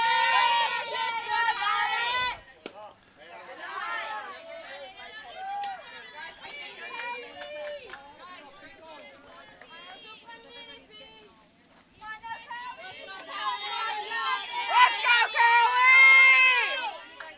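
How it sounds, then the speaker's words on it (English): Girls from the Twisters U14 softball team cheer and chant from their bench at an outdoor game, bursts of high, overlapping young voices near at hand, loudest at the start and swelling again toward the end. "Lots of cheering coming from the Twisters bench here beside us this afternoon."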